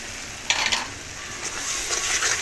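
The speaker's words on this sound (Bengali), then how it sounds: "এখন মশলাটা ভালো করে কষিয়ে নেব" Spice paste (masala) being stir-fried in a pan, a continuous loud sizzle with a few scraping strokes of the spoon against the pan standing out.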